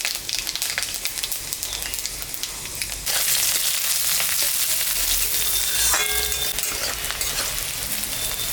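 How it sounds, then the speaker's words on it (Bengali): Dried red chillies and panch phoron are dropped into hot oil left over from frying fish, making a steady crackling sizzle that jumps suddenly louder partway through and stays intense, close and unbroken, with no voices. "এখানে শুকনো লঙ্কা, 5 ফোড়ন সম্বরা দিলাম,"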